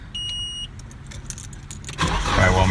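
Keys jangle in the ignition of a Nissan 240SX S14 with its fuel pump fuse pulled, then after a brief pause the engine cranks and catches into a loud, close rumble.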